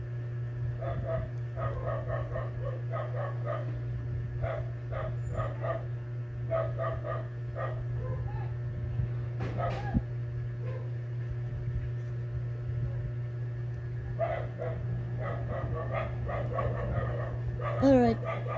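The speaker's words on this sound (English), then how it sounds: "Don't mind the dogs in the background." Several dogs bark in repeated bursts of yaps and woofs at a middle distance, with a few whimpers, over a steady low electrical hum while someone works nearby assembling a Supermarine Spitfire model.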